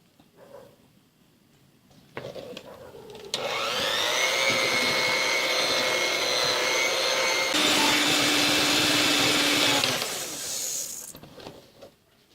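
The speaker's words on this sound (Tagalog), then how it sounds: "gagamit po ako ng hand mixer" An electric hand mixer whirs steadily through butterscotch bar batter in a mixing bowl, starting with a click, shifting speed partway through, then winding down after about eight seconds of close, continuous motor whine.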